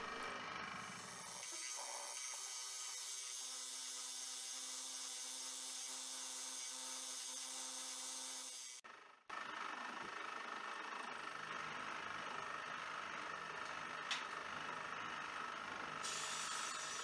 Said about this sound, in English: I'm going to mill a 4mm wide channel that the end of the thumb screw will go down into